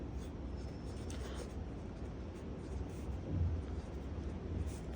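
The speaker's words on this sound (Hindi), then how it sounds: "अपनी रेशियोज लिखेंगे" Pen writing on paper while working a math exercise: continuous faint scratching strokes over a low background hum, with no clear speech.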